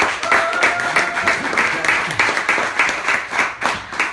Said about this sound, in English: Clap your hands if you travel with us